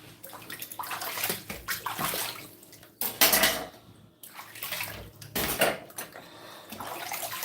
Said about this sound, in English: We wash the little ones now.